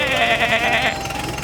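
A sheep gives a single wavering bleat lasting about a second, close and clear with nothing else over it.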